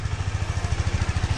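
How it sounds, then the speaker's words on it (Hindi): A motorcycle engine idling after a cold start, having sat overnight under snow in Lachung, North Sikkim: a close, steady, low-pitched pulsing putter with an even rhythm and no talk. "बाइक को थोड़ा कोल्ड स्टार्ट किया है, क्योंकि पूरी रात बर्फ के अंदर था"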